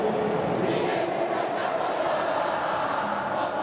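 Fortaleza football fans fill a stadium with a dense, steady crowd roar during a Copa do Nordeste semifinal against Santa Cruz, sustained and loud throughout with no distinct breaks.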